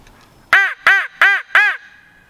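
A wild turkey gobbles in four quick, loud bursts close together, each a rattling burble, with quiet around them and no voices.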